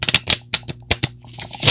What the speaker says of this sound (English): To make sure I shuffle them